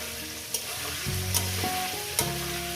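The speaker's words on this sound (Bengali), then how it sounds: "পাঁচ মিনিট আমি আলুটাকে ভেজে নিয়েছি" Potatoes for a spicy rohu fish curry fry in hot oil, a steady sizzle with a few sharp scraping stirs of a spatula against the pan, close and fairly loud, no voices.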